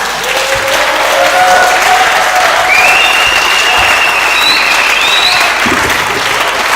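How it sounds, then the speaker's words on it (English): Sustained, loud applause from an audience at a spoken-word poetry night for headline poet Gav Roberts, steady and dense throughout, with a few faint whistles or cheers rising above the clapping. "Can you please keep the round of applause going while we thank Gav Roberts"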